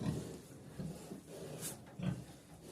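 Pigs grunt low and rough several times, close by, with brief snorts and a faint squeal amid quiet shuffling.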